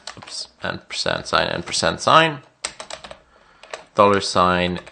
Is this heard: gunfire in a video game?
no